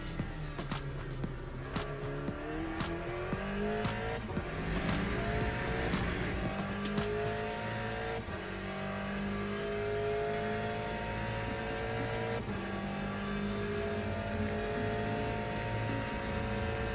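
An Aston Martin GTE race car drives at Circuit of the Americas, its engine whining high and loud from onboard as it revs up through the gears, then eases back into a steadier drone.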